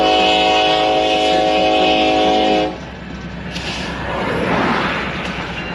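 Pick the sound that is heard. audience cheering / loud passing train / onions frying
loud passing train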